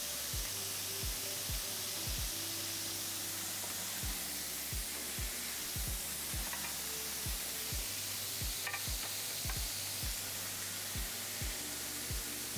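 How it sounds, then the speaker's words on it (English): Beef searing in a hot pan, a steady sizzle with a long run of regular low knocks as the meat is stirred and pressed, close and fairly quiet. "This pan just sears up way better than the other one."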